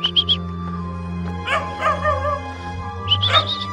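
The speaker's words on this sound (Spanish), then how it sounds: "nomás es un perro cuidador" A guard dog barks and whimpers near a reportedly haunted house in Bahía de Banderas, Mexico, with a quick pair of high yips, a whining middle stretch and another burst of yelps, over a low steady hum.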